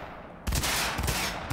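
Heavy gunfire in Cyberpunk 2077 erupts suddenly after a brief quiet lead-in, a dense, loud burst of rapid shots filling the rest of the moment with a punchy, meaty crack.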